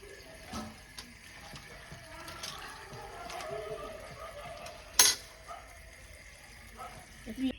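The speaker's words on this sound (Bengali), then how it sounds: "কচু শাকটা ধুয়ে দিচ্ছে" Taro greens are washed by hand in water, giving quiet intermittent splashes and clinks with one sharp splash partway through.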